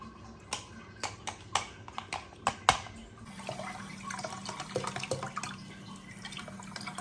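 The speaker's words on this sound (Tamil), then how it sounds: "இந்த மாதிரி ஒரு மக்கில் கொஞ்சோண்டு தண்ணி பிடிச்சி வச்சுட்டு" A few sharp clicks and knocks are followed by water running from a tap into a small mug, a steady close splashing trickle for several seconds.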